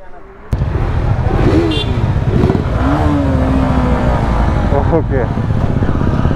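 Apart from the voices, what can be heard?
group of motorcycles riding off: Apache, Dominar, KTM RC390, Bullet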